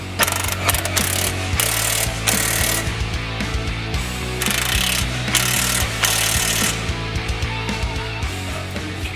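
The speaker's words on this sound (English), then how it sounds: "they're using a ratchet strap to pull the arm over a little bit to line the bolt hole up" A ratchet strap cranks repeatedly to pull a Ford Edge's rear trailing arm into line during a wheel bearing replacement, with rapid clicking pawl bursts and rubbing mechanical creaks close by.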